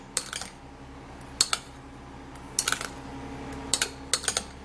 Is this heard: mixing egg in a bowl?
yes